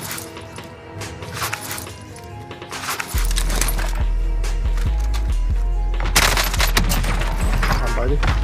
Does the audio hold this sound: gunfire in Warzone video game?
yes